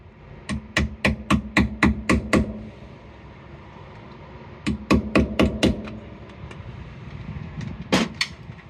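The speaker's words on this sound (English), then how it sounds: "The hammer." Hammer strikes at a campsite on Assateague Island, Maryland: a quick run of about eight evenly spaced, close, sharp blows, a pause, a second run of about six, then one or two final hits.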